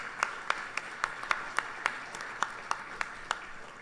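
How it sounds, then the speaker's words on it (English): Sparse, quiet clapping from a small audience at a Krishna temple anniversary service, about a dozen distinct hand claps spaced out unevenly, each crisp and isolated against a hushed room. "Give them a round of applause."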